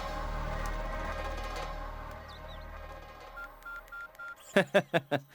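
A short series of electronic beeps, then several quick, louder keypad tones as a phone number is dialed, over faint background hum.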